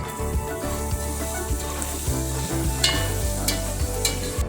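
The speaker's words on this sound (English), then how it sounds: "We're going to stir that around." Sausage gravy is stirred in a frying pan, a steady sizzle with repeated soft scraping knocks of the utensil against the pan bottom, close and continuous, with no voices.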